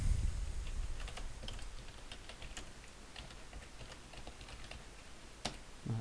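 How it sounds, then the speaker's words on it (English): Steady typing on a computer keyboard, a run of quick, light key clicks in an uneven rhythm over a constant hiss, with one sharper keystroke near the end and no one speaking. "I'm just going to type in"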